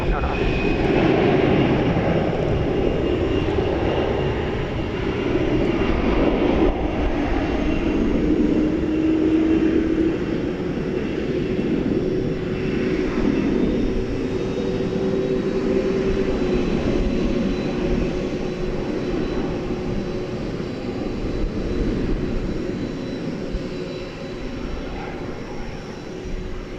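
A jet airliner taxis toward the runway at DFW airport, a steady loud engine whine and rumble continuing throughout with slight swells and fades as it moves.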